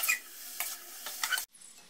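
Vegetables and noodles for Indian-style veg hakka noodles are stir-fried on full gas. Several quick scraping stir strokes sound over a soft sizzle before the sound cuts off abruptly near the end.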